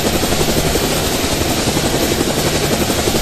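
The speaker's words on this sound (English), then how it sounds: "This is a great position, I think, to fly the helicopter." A helicopter in the GameGuru Max video game drones with a loud, continuous rotor chop and engine roar, steady and close throughout with no talking.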